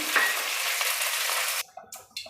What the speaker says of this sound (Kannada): ಈಗ ಅದೇ ಎಣ್ಣೆಯಲ್ಲೇ ಪುದೀನ ಸೊಪ್ಪನ್ನು ಫ್ರೈ ಮಾಡ್ಕೊಳ್ತೀನಿ